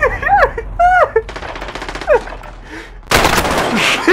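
Automatic gunfire from a P90 in a Modern Warfare 3v3 match bursts out loud and close, with sustained rattling near the end, mixed with game sound effects.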